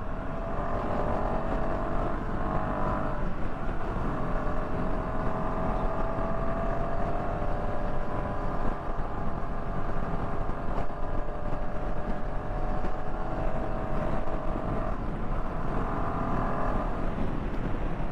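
Continuous engine hum and wind rush from a Royal Enfield Himalayan 450 motorcycle ridden along a hill road in the Munnar hills, steady and close throughout with no talk.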